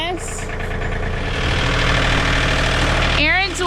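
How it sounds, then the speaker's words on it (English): A tractor engine idles and warms up on a trailer in deep Alaskan winter snow, a steady loud mechanical drone that builds and holds close by, with a brief higher whine near the end. "warming up the tractor in order to get it unloaded from the trailer really quick"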